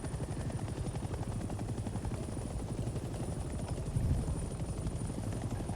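A helicopter in the video game Hell Let Loose: Vietnam, whose rotor chop and engine drone form a steady, close, loud hum that runs unbroken throughout, with no talking.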